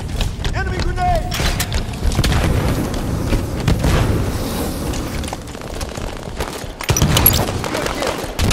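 A grenade detonates amid scattered gunfire in Halo 5 multiplayer, with a rumbling boom and sharp bursts near the end while voices speak over the action.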